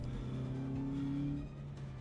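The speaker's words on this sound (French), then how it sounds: "tandis que la voiture accélérait en direction de l'inconnu" A car accelerating, used as a sound effect in an audio story: a fairly quiet engine drone with a steady rising tone that eases off near the end.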